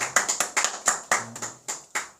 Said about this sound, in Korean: 우리 예배를 받으신 하나님께 영광의 박수를 드리겠습니다.